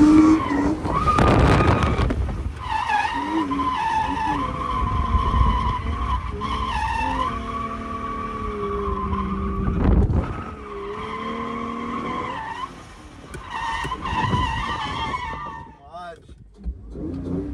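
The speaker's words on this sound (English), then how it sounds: "Getting a feel for when you're sliding, when you should be back on throttle, clutch kick in." A daily-driven car drifting at a drift competition, with repeated loud tire squeals and skidding over a revving engine. The sound rises and falls in long sliding bursts, heard close.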